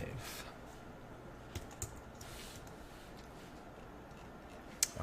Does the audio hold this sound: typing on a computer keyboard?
yes